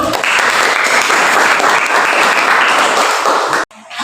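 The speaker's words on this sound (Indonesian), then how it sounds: "kita beri tepuk tangan dulu" Loud, steady applause from a classroom audience, dense clapping that holds evenly for several seconds before cutting off abruptly near the end.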